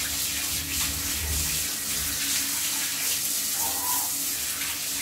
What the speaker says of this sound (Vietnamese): Chúng ta sẽ xả nhanh bằng nước này.